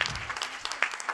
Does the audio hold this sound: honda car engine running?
no